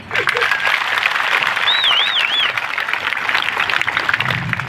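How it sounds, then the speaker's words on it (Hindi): A large crowd at a farmers' rally claps loudly and continuously for Dharampal, dense applause throughout with a whistle and scattered shouts rising above it. "एक बार धर्मपाल की जोरदार ताली बजाओ।"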